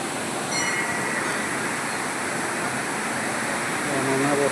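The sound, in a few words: roar of the Panchalingeswar waterfall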